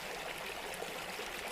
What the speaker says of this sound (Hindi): बगल में नदी की कलकल की आवाज चारों तरफ गूंज रही थी।